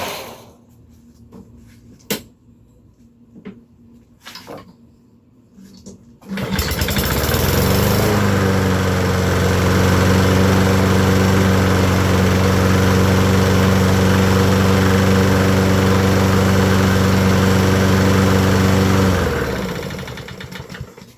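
A Honda lawn mower engine starts up after a few quiet clunks and handling noises, then runs loudly and steadily for about twelve seconds before dying down, with no talking.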